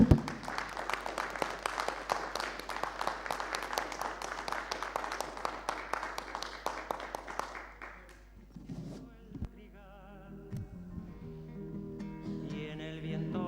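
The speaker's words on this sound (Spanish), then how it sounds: "Un aplauso para Oscar Tor." Audience applause at a Bolivian documentary forum screening: dense, steady clapping from a crowd fills the first eight seconds, then fades as music takes over.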